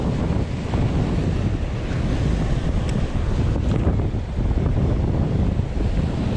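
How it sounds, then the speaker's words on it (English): Strong, steady wind at the sea roars and buffets the microphone over the rush of surf, a constant blustery noise with no voices. "It's very windy, guys, very windy."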